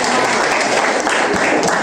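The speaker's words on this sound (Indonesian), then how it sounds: "Ya, kasih tepuk tangan untuk Khaira." Applause for a student named Khaira during a lesson, a steady, dense wash of clapping that stays loud and even for the whole stretch, with no voices over it.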